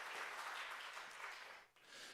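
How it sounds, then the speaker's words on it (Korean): A church congregation claps to welcome a visiting couple, a quiet, fairly distant patter of applause that dips briefly near the end and then resumes. "우리 두 분들에게도 환영의 박수 한번 드렸으면 좋겠습니다"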